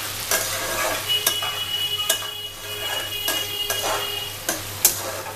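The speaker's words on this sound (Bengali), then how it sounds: "জাস্ট একটু তেলের সাথে ভাজাও হয়ে যাবে আর মশলার সাথে কষাও হয়ে যাবে" Parboiled potatoes frying in oil with spices in a pan, giving a steady, close sizzle with periodic sharp clinks and scrapes of stirring, no voices.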